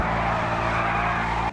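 An Aston Martin in GTA 5 roars loudly as it accelerates, a steady high engine note with tire noise that cuts off abruptly near the end.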